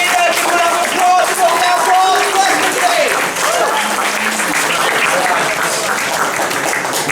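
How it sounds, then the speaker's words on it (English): Audience at a student comedy gig breaking into sustained applause, dense clapping and cheering that stays loud and even throughout, with a voice briefly heard over it. "Give a round of applause."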